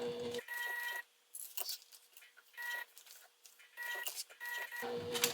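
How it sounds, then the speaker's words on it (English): Domestic sewing machine stitching fabric during a custom fabric project, heard as mechanical whirring bursts broken by brief pauses, close and moderately loud, with no talking. "And while I'm sewing this"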